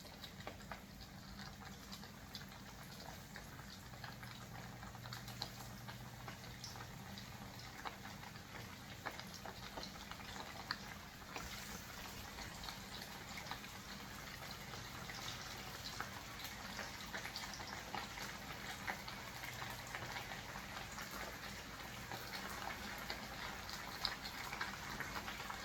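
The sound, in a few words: food frying in a pan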